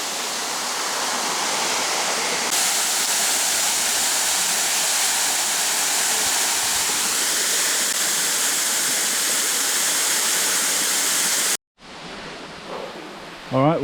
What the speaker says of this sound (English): Swimming under a waterfall in a rainforest.